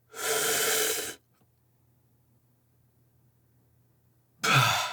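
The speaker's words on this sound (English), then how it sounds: "First, I want you to inhale a lot. Go to your absolute max and then hold your breath." A deep, loud inhalation drawn to full capacity, followed by a held silence of about three seconds and then a forceful release of breath, heard close and alone.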